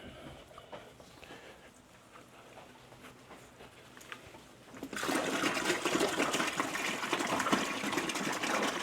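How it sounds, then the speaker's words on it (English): Quiet background at first, then water suddenly starts gushing and pouring steadily into a 3-gallon water container for a rat breeding rack, a loud continuous splashing rush that keeps going to the end. "I took 3 gallons of water to this water container and we'll fill it up"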